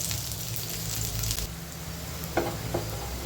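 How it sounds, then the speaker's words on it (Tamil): Garlic slices frying in a pan for a South Indian gravy, a bright close sizzle with crackling that eases after a moment, followed by brief soft stirring scrapes. "இன்னொரு பேனில் பூண்டு பொடிசாக கட் பண்ணி பூண்டு ஸ்லைஸ் பண்ணியிருக்கேன். அதை நல்லா செவக்க வறுத்துடணும்."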